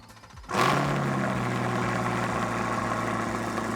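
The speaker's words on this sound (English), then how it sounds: "we also have the quad stack. So let's see what that sounds like compared to the other two." A 2027 Corvette Grand Sport with an LS6 V8 and quad stack exhaust fires up and settles into a loud, steady, burbling idle close by, with no talk over it.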